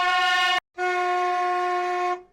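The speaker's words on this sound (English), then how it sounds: "It's just a car horn." An AI-generated car horn sound effect gives two loud, steady blasts: a short one, then a brief gap and a longer held tone that fades at the end.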